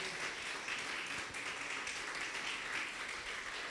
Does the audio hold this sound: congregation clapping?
yes